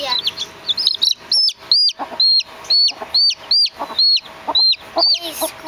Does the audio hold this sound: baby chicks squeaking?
yes